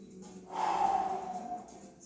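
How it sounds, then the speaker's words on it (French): Deep breathing at the end of a gym cool-down session, one long audible breath rising and fading over a couple of seconds, close and fairly soft, with no talk over it. "quelques respirations,"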